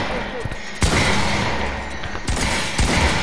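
Rapid bursts of gunfire in a 2v2 wager match of a video game shootout, sharp loud shots repeating over a steady background, with a player's voice talking over the action.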